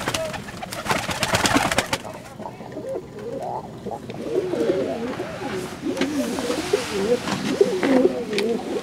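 A male white pigeon coos in soft, rolling, repeated phrases up close, following a short burst of rustling and flapping at the start, with faint background noise and no clear talk.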